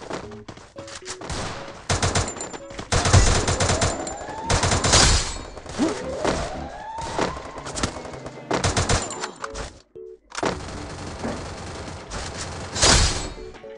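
Loud automatic gunfire from the mobile shooter game Free Fire comes in rapid bursts and long sustained volleys with short pauses, close and dominant throughout.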